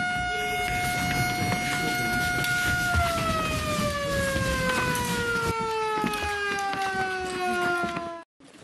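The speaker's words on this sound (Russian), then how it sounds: "Кадеты, как настоящие солдаты, по первому звуку сирены и слову «тревога» отправляются в горы" An alarm siren signals cadets at a field training camp, a loud steady horn-like wail that holds for about three seconds, then slides gradually downward before cutting off abruptly, with faint voices and bustle beneath.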